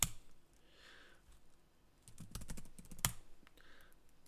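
Commands being typed on a computer keyboard to build a programming language from source: a quiet, irregular patter of key clicks with a few louder presses, close and alone.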